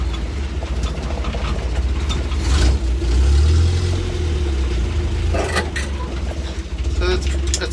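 Land Rover Series 1 rolling along with its engine running low and rumbling, a surge of engine noise midway, with people talking over it throughout.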